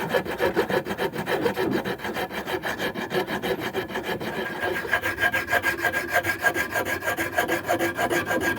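A rasp carves a wooden axe handle in quick, regular back-and-forth strokes, each one a rough, scratchy rasping sound, continuous and close with no talking.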